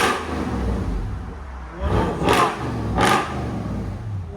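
A 1996 Lexus LS 400 4.0L V8 with true dual exhaust and Valvetronic mufflers idles with a low burble, then barks through two sharp, loud revs in quick succession before settling back.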